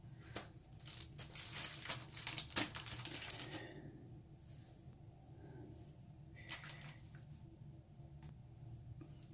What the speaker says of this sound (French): Et je vais prendre mes protège cartes.